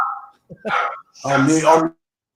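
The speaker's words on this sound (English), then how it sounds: "Stop barking, Lubo." A dog indoors yaps and gives short, high barks at the arrival of the postman, heard close and alone in a couple of brief bursts.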